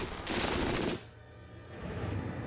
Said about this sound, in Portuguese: A MG-42 é tão rápida que não se pode ouvir seus tiros individuais